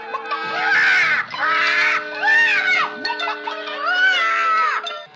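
A magic hen in a children's story record squawks in a string of loud, frantic, wavering cries with brief gaps between them, likely a voice imitating the frantic bird in front of a sustained musical backing.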